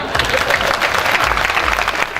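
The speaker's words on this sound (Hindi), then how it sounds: "बात समझ में आ रही है तो ताली बजाओ" Audience applause at a Hindi kavi sammelan at a temple in Dewas, dense steady clapping from a crowd lasting the whole moment, fairly loud and close.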